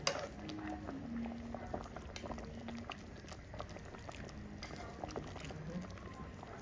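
A ham simmers in pineapple juice in a pot with a soft, steady bubbling that stays faint and close, while a voice talks over it in places.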